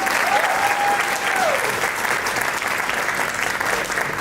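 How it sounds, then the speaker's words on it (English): Audience at the Australian Muslim Achievement Awards ceremony breaks into a dense, steady round of applause that fills the whole stretch at an even level, with a brief sustained tone gliding through near the start. "Can we just give them one round of applause"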